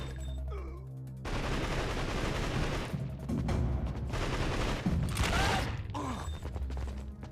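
Rapid bursts of gunfire from a PS2 shooter video game, a dense, sustained barrage of repeated shots with brief lulls, loud and close, with the game's music and effects beneath.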